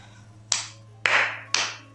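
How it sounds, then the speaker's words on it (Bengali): Three sharp, separate hand claps ring out in a Bengali detective audio drama, evenly spaced about half a second apart over a low steady hum, with no voices. "কমলেশ কাকা চেয়ারে বসে পড়তে পড়তে ছেলে মানুষের মতো হাততালি দিয়ে বলে উঠলেন"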